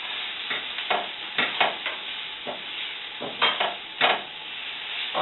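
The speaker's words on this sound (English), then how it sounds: "Now my onions and my green peppers are still sweating out a little bit, so we're going to stir everything up." Onions and green peppers sweating in a pan are stirred with a utensil, producing soft sizzling under a series of scraping, clattering strokes spaced irregularly across a few seconds.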